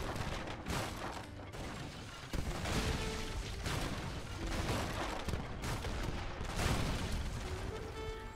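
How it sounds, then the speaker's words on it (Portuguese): A fixed cannon fires at attacking enemy ships in the video game Age of Empires III, with dense, continuous booming and crackling battle noise and overlapping shots throughout, and no voices. "Usar o canhão fixo contra os navios agressores."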